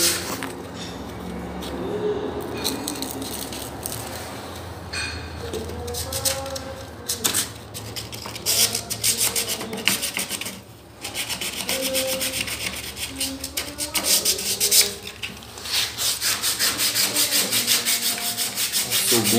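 Sandpaper, 80 grit then 220, is rubbed by hand across a wooden door being prepared for lacquer, a close, steady scratchy rasp in repeated strokes with brief pauses between passes.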